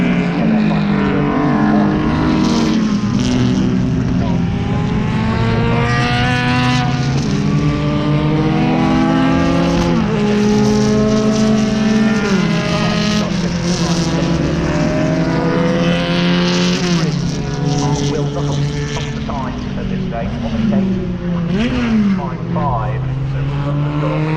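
Historic Grand Prix racing cars from the 1920s to 1960s circulate during qualifying at Donington Park, engines rising and falling through gear changes as several cars pass one after another, loud and continuous.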